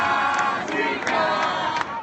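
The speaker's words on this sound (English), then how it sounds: "the American athletes are also facing jeers from the crowds about their fear of the virus" A stadium crowd jeers at American athletes at the Rio Olympics, a dense, loud wash of massed voices with a few louder swells of shouting, no clear speech.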